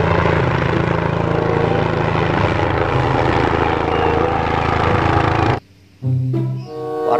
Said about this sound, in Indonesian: Wah, kita menemukan helikopter ya.